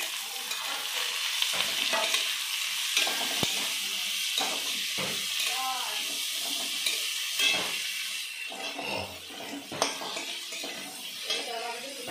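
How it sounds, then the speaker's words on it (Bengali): Fried onion, garlic and green chilli sizzle in a pan on a Bengali home stove. A utensil stirs and clatters against the metal in irregular scrapes and knocks over a steady hiss, with no talk. "আমি পেঁয়াজটা ভাজা ভাজা হয়ে গেছে, এখন আমি দিয়ে দেবো রসুন আর কাঁচা লঙ্কা"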